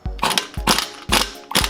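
A Harbor Freight impact gun working on Ford 351M engine bolts during a teardown, four short bursts of rattling hammering, each sharp and close with brief pauses between them.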